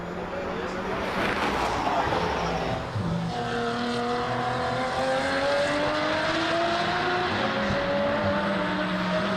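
Touring car racing at the Baltic Touring Car Championship, DeWALT Grand Prix 2022, with a close engine roaring steadily as its pitch climbs through the gears, under continuous talking.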